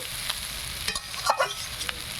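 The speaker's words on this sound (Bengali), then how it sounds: "এখন বাঁধাকপিটা ভেজে নিচ্ছি" Cabbage is fried and stirred in a pan in a village kitchen, with faint sizzling under a few soft scraping stirs of a spoon against the pan, heard alone.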